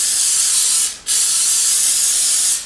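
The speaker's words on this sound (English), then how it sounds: "we want to spray each of these little cavities with" Two loud, close bursts of vegetable cooking spray hissing into a tart pan's cavities, separated by a brief pause.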